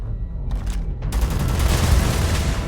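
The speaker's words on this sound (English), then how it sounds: "Again with the gunfire." Rapid gunfire in the space shooter game Starfield, with a couple of short bursts followed by a dense, loud rattle of shots that runs on without pause.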